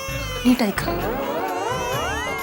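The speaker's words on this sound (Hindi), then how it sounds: "हाँ, छोटा बच्चा रो रहा है।" A small baby cries in a TV sitcom household scene, a wavering high wail running steadily through the clip beneath spoken dialogue.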